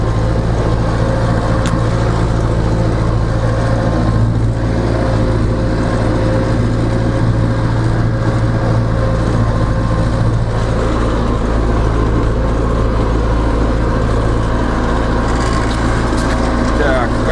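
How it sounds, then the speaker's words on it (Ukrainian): A YuMZ tractor engine drones low and heavy under load while ploughing, a loud, continuous rumble with a steady throb that never lets up. "газу навіть на всю не даю, трактор тягне"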